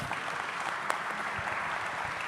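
Audience applause at a VivaTech investment talk, a steady dense patter of many hands clapping at moderate level for the whole stretch, with no voices over it.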